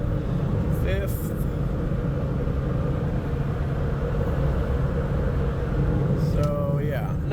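A Daihatsu Mira TR-XX Avanzato R cruises in fifth gear at freeway speed with the AC on, a steady low engine and road rumble heard from inside the cabin, with brief chirps and squeaks in between.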